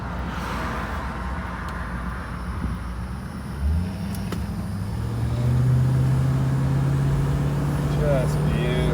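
A 1965 Ford Mustang convertible drives with a low, smooth engine rumble under steady talk, the engine tone rising as it accelerates toward the end.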